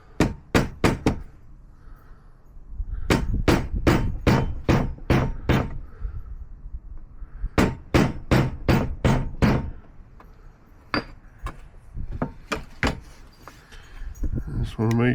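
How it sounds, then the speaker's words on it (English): A mallet taps a 1 1/16 socket down into place in sharp, close, rapid knocks that come in several clusters, with someone speaking in between. "Take your mallet."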